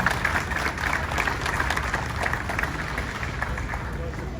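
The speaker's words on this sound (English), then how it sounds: "Keep the applause going" Sustained applause from a crowd at a Cambodian flag raising ceremony in Philadelphia, steady clapping throughout with voices mixed in.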